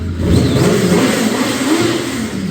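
A 2005 BMW K1200S motorcycle engine revs and holds at a loud, rumbling, throaty pitch, with a brief rise partway through, heard close up inside an echoey room.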